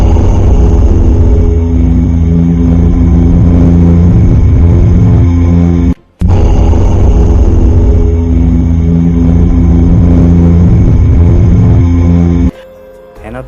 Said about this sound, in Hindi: ये है सूरज की असली आवाज़, जिसमें से ओम की आवाज़ आती है